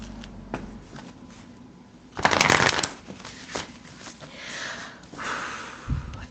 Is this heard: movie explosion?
no